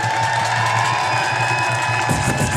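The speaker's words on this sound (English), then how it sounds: "keep that noise up and make another round of applause for our lovely teacher" Crowd at an Oakland teachers' strike rally cheering and whooping steadily, a dense, loud wash of voices and applause that carries on without a break.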